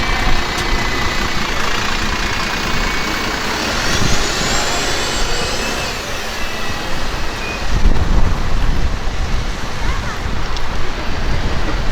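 A Brighton city bus engine revs hard as the driver accelerates, a loud, close, continuous rumbling roar with a rising whine, steady for the whole stretch and swelling again near the end.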